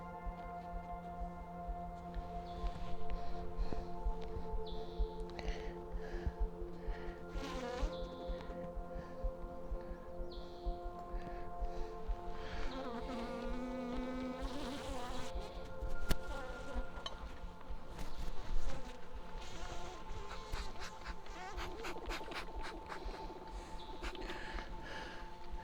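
Honey bees drone steadily around an opened beehive during an inspection and split full of queen cells, with a dense, continuous buzz that swells and fades as individual bees pass close by the microphone.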